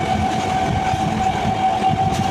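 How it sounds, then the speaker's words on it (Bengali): Rumbling Chandanpur local passenger train passing a goods train on Indian railway track, steady loud rolling rumble with a sustained horn-like tone throughout, no voices. "দেখো বন্ধুরা, চন্দনপুর লোকালটা কীভাবে মালগাড়িটাকে টপকে বেরোচ্ছে।"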